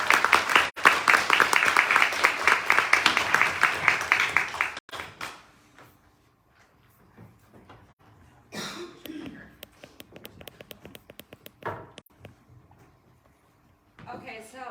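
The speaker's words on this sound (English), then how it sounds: "Can we get a big round of applause for JoAnna?" An audience bursts into loud, dense applause that runs for about five seconds and then stops abruptly, followed by a quieter room with talking, a few scattered claps and some shuffling.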